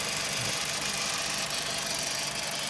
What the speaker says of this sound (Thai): อันนี้สภาพให้ฟังเสียงเครื่องยนต์นะครับเครื่องยนต์ปกติทำงาน อย่างปกติ